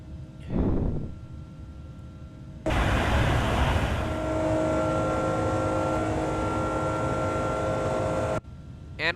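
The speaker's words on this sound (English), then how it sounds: "And we have taken off." A simulated Airbus A330 on takeoff in X-Plane 11 sends out a loud, steady jet engine roar that kicks in suddenly after a brief earlier burst, holds at full strength for several seconds, then cuts off abruptly.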